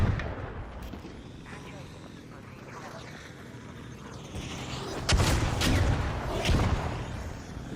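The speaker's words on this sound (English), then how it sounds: "Just a random fucking trigger nade coming from the heavens" A trigger grenade blows up in the video game ARC Raiders, giving heavy booming blasts with a loud burst past the midpoint and further rumbling over steady game noise, while voices talk throughout.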